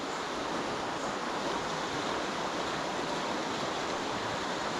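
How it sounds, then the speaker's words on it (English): Fast-flowing water of the River Wansbeck rushes steadily and loudly, a dense continuous roar of running water close by with no voices. "Water's running really fast"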